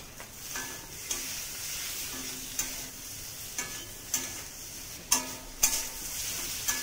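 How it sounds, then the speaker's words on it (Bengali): Potato curry with turmeric and tomato is stirred in a pan, a soft, close sizzle punctuated by light, periodic taps and scrapes of the spoon against the metal, with no one speaking. "ভালো করে নেড়ে নেব।"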